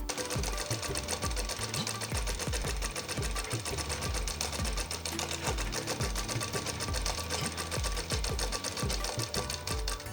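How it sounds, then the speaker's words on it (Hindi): A sewing machine hems a kurti sleeve on a one-inch double fold, its needle pounding in a fast, even rhythm that runs without a break, close and loud. "अभी हम आस्तीन की सिलाई कर लेंगे। इसको 1 इंच पे सिलाई करेंगे और डबल फोल्ड पे सिलाई करेंगे।"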